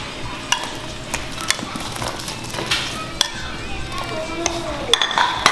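Pineapple going into a boiling pork-bone soup and stirred, with metal spoon clinks and scrapes against the pot over a bubbling background, while a voice speaks faintly.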